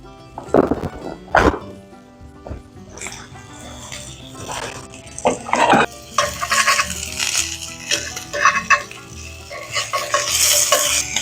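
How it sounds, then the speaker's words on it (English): Sausage sizzles and crackles in a frying pan, with scraping stirs, clinks of utensils, and a few sharp knocks close by. "While my sausage is frying"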